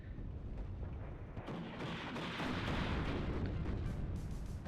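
A BMP-2 firing in the video game WARNO, faint, muffled booms and crackling bursts over a dense rumbling battle background, distant and continuous, no talk.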